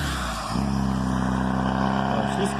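A car speeds past a cyclist on a snowy road, its engine note droning steadily and then rising as it nears, while someone talks over it.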